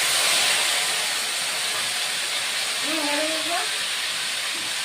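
Boiled taro dropped into a hot pan for a vegetarian taro curry, setting off a steady loud sizzle and steamy hiss throughout, with a brief low voice partway through.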